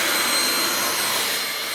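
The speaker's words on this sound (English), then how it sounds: "you'll notice this vacuum switch has 2 modes. The first is for bare floor." A vacuum cleaner running in bare floor mode with the brush roll off, a loud steady whirring whine with a faint high tone, constant throughout.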